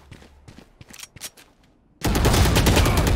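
Gunfire in the game Valorant, a loud sustained burst of rapid shots that erupts suddenly after a stretch of quiet footsteps and small clicks, close and dominant.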